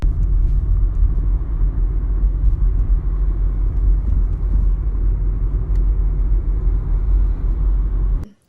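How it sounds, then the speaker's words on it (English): Interior of a moving car: a steady, low road-and-engine rumble fills the cabin, constant and fairly loud throughout before cutting off abruptly at the end, with no talking. "She had her first car journey."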